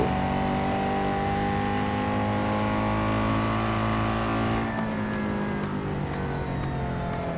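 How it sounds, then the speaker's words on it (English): A race car in the video game Real Racing 3 accelerates with a smooth, loud engine tone climbing steadily in pitch, continuous and close, with no voices. "Such a smooth accelerating sound."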